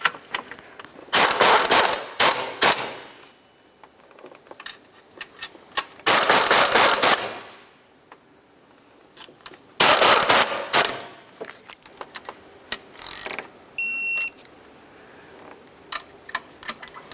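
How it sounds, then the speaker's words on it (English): Ratchet tightening the alternator mounting bolts on a 2006-10 Ford Explorer, in three loud bursts of fast close clicking separated by pauses with quieter handling noises. "we can start in all of our mounting bolts, we'll snug them up, and then we're going to torque each of them to 35 foot-pounds"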